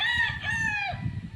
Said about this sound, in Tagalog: Marami po akong mga manok dito.